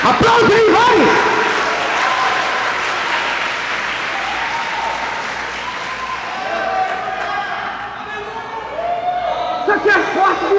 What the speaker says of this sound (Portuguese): Aplaude aí, vai!